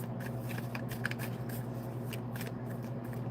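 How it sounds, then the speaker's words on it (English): Reading cards are flipped and shuffled by hand, a close run of soft papery flicks and riffles with a few sharper snaps, heard alone against a steady low hum. "I want these cards to flip."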